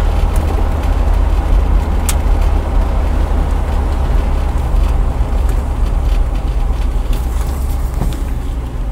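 A 1977 Corvette barn find being driven, its engine rumbling steadily with dense road and wind noise up close, a continuous loud drone with no speech.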